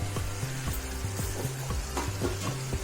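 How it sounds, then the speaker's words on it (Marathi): A curry of small river fish simmers on a low gas flame. It bubbles and burbles in a steady rhythmic pattern, close and continuous, with no talk. "एकदम कमी गॅसवर आपल्याला हे मासे शिजवून घ्यायचे"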